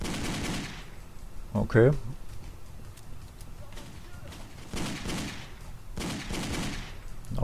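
Bursts of gunfire in the video game Driver 3, rapid volleys of shots recurring in several clusters at moderate distance, with someone talking over them.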